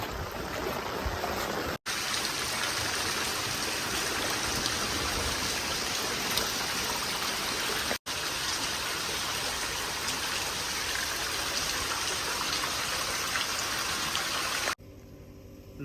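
Heavy monsoon rain pours down in rural Punjab over flooded streets and paddy fields, a loud, steady broadband roar of rainfall and running water with wind. It continues unbroken apart from two brief dropouts and a quieter tail.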